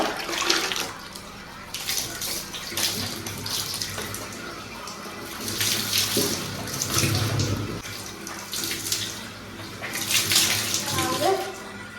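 Running water rinses shampoo out of curly hair, a steady splashing flow with rising and falling bursts as the stream moves through the hair, close and fairly loud, with no talking.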